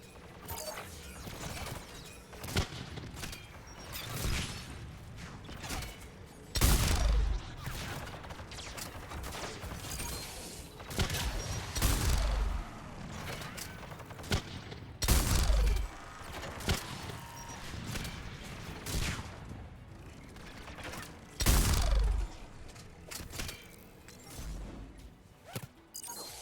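Mounted guns firing in the video game Mass Effect 3, heavy booming blasts recurring every few seconds over a busy bed of clanks and combat noise, with no voices heard.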